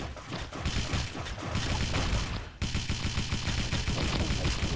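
Rapid, dense automatic gunfire from weapons in the mobile shooter game Pixel Gun, loud and continuous throughout with a brief dip midway, no talk over it.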